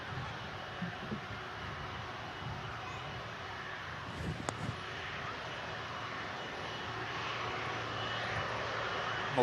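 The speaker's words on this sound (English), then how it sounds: "Multi-role aircraft, these 330s, used for refueling and other various tasks carried out by the RAF here in the UK" An RAF Airbus A330 multi-role refuelling aircraft at Manchester Airport gives a steady, broad engine roar that swells slightly toward the end, with a few faint voices nearby.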